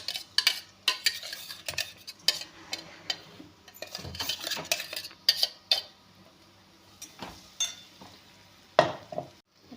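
Green chilies sizzle as they are tossed into hot oil in a pan, with scattered stirring scrapes and clinks of a utensil against the pan over a steady frying hiss.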